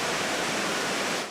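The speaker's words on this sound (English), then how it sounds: "beneath the roar of the Memorial Waterfall" Steady, dense roar of falling water from the 9/11 Memorial Waterfall in Lower Manhattan, a broad, even rush with no break and no voices.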